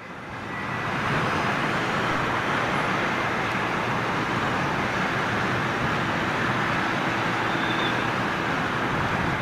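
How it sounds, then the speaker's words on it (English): Boeing 747 taking off from London Heathrow, a steady broad jet roar that swells in over the first second and holds loud and continuous. "747 going out."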